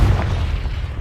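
A Confringo blasting spell goes off in the Hogwarts Legacy video game. It makes a single deep boom with a low rumble that slowly decays, heard on its own.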